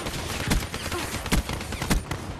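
Gunfire in the Call of Duty Black Ops 3 video game, a few sharp shots popping out over a dense, busy background of game noise.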